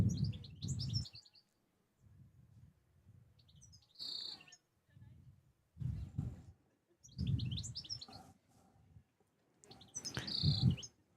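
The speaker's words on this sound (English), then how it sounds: "Birds chirping in the background." Birds chirping outdoors on a spring day near a lawn bowls green, sparse high bright calls in short bursts at a moderate distance, alternating with low murmuring voices nearby.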